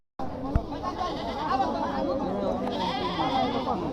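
A goat bleats at a busy village market in Chandpur, close and clear at moments, over steady crowd chatter and bargaining voices that run throughout.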